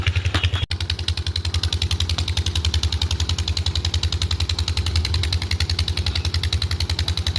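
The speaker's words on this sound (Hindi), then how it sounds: "वो देखिए, वहाँ पे इंजन चल रहा है, यहाँ पानी लगेगा" A farm engine driving an irrigation water pump thumps steadily in a fast, even rhythm, loud and close. It runs alone without a break among fields of garlic and berseem fodder.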